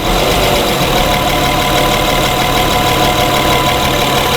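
A 2011 Honda Pilot engine idling with a fault that makes it surge and stall, giving a steady, dense mechanical hum at close range with a slight rhythmic waver and no voices.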